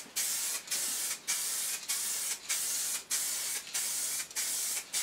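Vinyl wrap coating hisses steadily from a spray nozzle held close to a bash plate, in repeated bursts broken by about eight short pauses where the trigger is released, with no talking.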